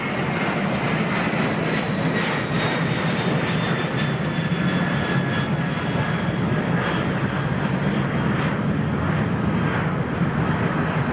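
Large jet airliner with yellow-painted engine cowls, its engines spooling down in a steady, loud broadband roar with a faint high whine gradually dropping, continuous throughout and heard alone without talk.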